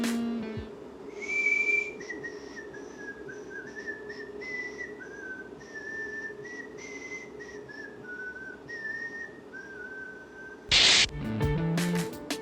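A person whistles a wavering, melodic tune indoors in a kitchen with noticeable echo while a kettle runs, the notes sliding up and down for about ten seconds, followed by a brief burst of noise near the end.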